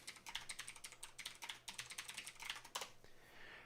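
Keys clatter on a computer keyboard in close, quick runs of clicks, a brisk uneven patter with short pauses, fairly quiet and alone.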